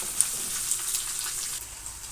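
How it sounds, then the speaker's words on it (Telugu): Chopped onions and green chillies fry in a pan for a cabbage tomato fry, giving a soft, steady crackling sizzle like light rain, close and even throughout. "ఇప్పుడు ఉల్లిపాయ, పచ్చిమిర్చి వేసేసుకొని లైట్ గోల్డెన్ కలర్ వచ్చేంత వరకు బాగా ఫ్రై చేసేసుకోవాలి"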